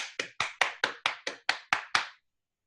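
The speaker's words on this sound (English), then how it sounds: "How about a round of applause for Jennifer Grenier?" Nine evenly spaced sharp claps, close and isolated, like a single pair of hands, welcoming a presenter at a software developer capstone showcase, ending abruptly into silence.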